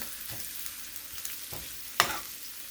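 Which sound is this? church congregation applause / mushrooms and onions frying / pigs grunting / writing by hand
mushrooms and onions frying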